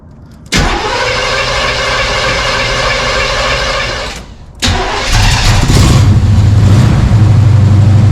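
A car engine cranks briefly and fires up, boosted by a Gooloo GP4000 jump starter, then settles into a steady loud idle; after a short dip it cranks and catches again, running on strongly and close by.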